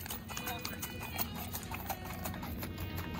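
Hooves clip-clop in a quick, even rhythm on a hard surface at a Missouri Fox Trotting Horse show, steady throughout, with faint crowd murmur and a distant voice underneath.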